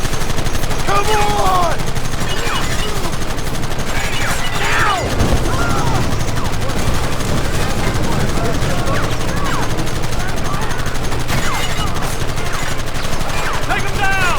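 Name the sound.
machine gun fire in video game Red Dead Redemption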